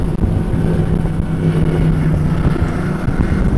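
An Outerlimits SL-44 speedboat at speed, a loud, continuous low engine roar mixed with rushing wind and water noise, steady throughout with no talking.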